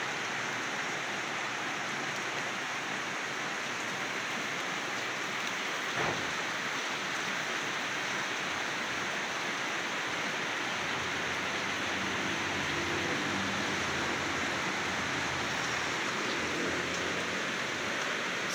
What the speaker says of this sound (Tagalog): malakas po yung ulan